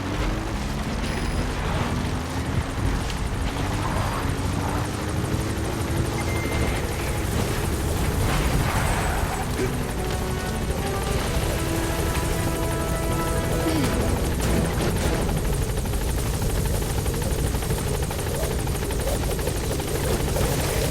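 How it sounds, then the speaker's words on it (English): Support helicopter from the video game Metal Gear Solid 5 hovers loudly and close at a landing zone, a steady whirring rotor drone with engine whine lasting throughout, with faint game voices underneath. "Support helicopter has arrived."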